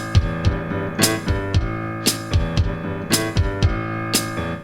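Music with a boom-chick rhythm: low bass booms alternate with bright offbeat chick hits on a steady, even pulse, loud and close with no voices.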